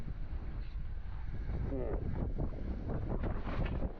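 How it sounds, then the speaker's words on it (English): Strong wind buffets the microphone on a freeride mountain bike line, a loud, continuous rumbling roar with gusty surges and faint voice traces beneath. "Whoa, it's windy."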